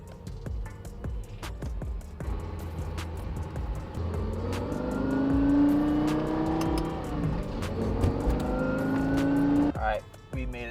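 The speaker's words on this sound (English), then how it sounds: "I'm obviously gonna be as careful as possible when driving this vehicle" A Lexus LFA supercar driven gently on public roads, its engine droning and rising through mild acceleration, heard from inside the cabin with someone talking over it before the sound cuts off near the end.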